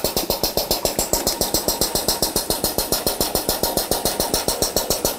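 Pressure washer engine running steadily while its pump primes, a loud, close, rapid regular pulsing chug with no talk over it.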